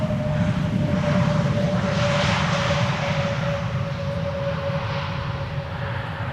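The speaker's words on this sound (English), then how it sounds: "This is Vueling, A320 Neo, with the dot still in place," A Vueling Airbus A320neo jet arriving at Schiphol Airport passes with a loud, continuous engine roar and a steady whine, holding strong throughout with no voices.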